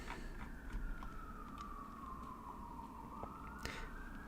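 An emergency vehicle siren wails faintly in the distance, a single slow tone sweeping down and back up over a low background hum.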